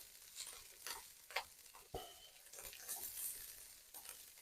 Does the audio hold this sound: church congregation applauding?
no